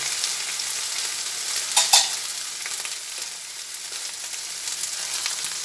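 Eggplant with green chilies frying in oil in a pan, a continuous close crackling sizzle with a brief louder burst of spatter from stirring, no voices.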